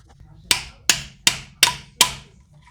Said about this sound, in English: tap the thing with a hammer, and hopefully it'll push this out